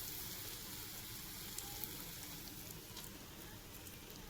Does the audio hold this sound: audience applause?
no